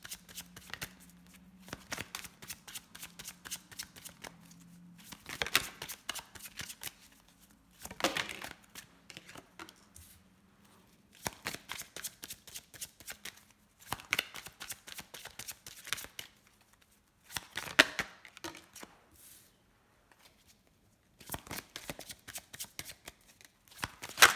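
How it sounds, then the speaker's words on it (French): Tarot cards shuffled by hand in repeated bursts of crisp riffling and flapping, each run lasting a few seconds with short pauses between, close and clear with no talking. "Alors, je laisse les cartes sauter"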